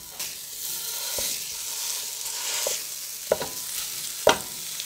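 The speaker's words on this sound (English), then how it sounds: "I'm gonna go ahead and start cooking down the sausage first" Country mild sausage cooks down in a pan with a steady sizzle, broken by a few sharp scrapes and knocks of stirring, close up with no talk.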